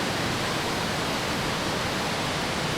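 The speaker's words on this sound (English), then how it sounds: "The road that was once bustling with traffic has now turned into a vast, raging river." Floodwater rushes down a submerged road like a raging river, a loud, unbroken roar of churning water that holds steady throughout with no voices.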